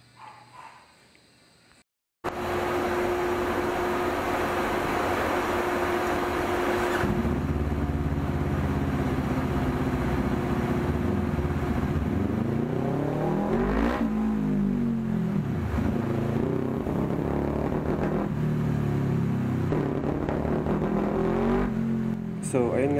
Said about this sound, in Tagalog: So ito yung Falcon 400X by FKM ni Sir PJ, naka SC project na walang decibel killer.